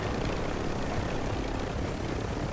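Steady, loud drone of an airplane passing overhead in a battle royale video game, a continuous broadband propeller-engine roar filling the whole stretch without letup.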